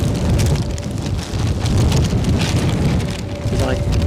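Fine drizzle during a storm with strong gusts at Edinburgh Airport patters steadily on a polythene camera cover, a dense, close spatter with a low wind rumble underneath.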